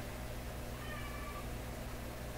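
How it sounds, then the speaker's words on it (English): A domestic cat gives a single faint, drawn-out meow in the background against a steady hum of electronic noise. "I hear one of my cats"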